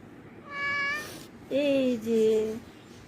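A domestic cat meows nearby, one long rising call followed by a second drawn-out, wavering meow, with a quiet room in the background.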